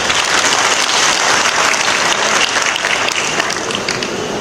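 Audience applause at a film festival event, a dense, sustained wash of clapping from many hands, loud and steady throughout with no break.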